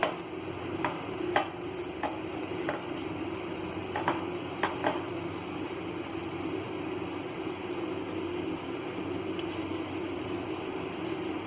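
Spices are stirred into mashed raw banana in a bowl with soft continuous scraping and occasional sharp clicks of a spoon against the rim, close and quiet with no talk.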